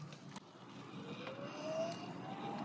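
A Lectric XP Lite 2.0 e-bike pulls away on throttle only at pedal assist level 5, its motor giving a faint rising whine over road and wind noise.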